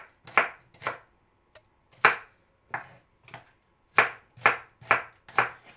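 A knife chops an onion on a board for a vegetable stir-fry: about a dozen crisp, close thuds in an uneven rhythm with short pauses between them.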